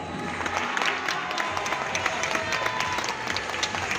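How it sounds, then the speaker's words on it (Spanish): An audience at an international magic festival claps continuously, with dense, crisp handclaps and a faint crowd murmur holding at a steady, fairly loud level throughout. "¡Aplauso!"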